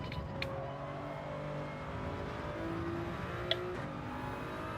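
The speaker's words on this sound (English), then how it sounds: "Give it a second, downshift again." Race car engine in Gran Turismo 7 droning steadily with shifting harmonic tones as it downshifts, near and continuous, with a couple of brief sharp clicks and no talking.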